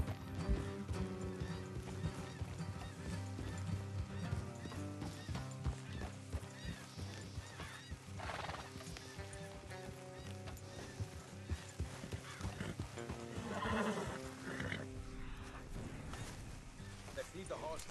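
Horses trot and gallop in Red Dead Redemption 2, with rhythmic hoof clip-clops, occasional neighs and game ambience running under the riders' ongoing talk throughout.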